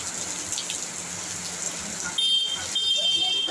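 Heavy monsoon rain pours down in Kolkata as a dense, steady hiss that swells noticeably louder partway through.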